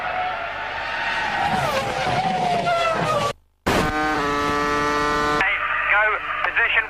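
BMW-engined Formula 1 car lapping in 2002 Austrian Grand Prix Saturday practice, its high-pitched engine whine sweeping through gear changes, briefly cutting out, then screaming on at full revs as a commentator talks over it.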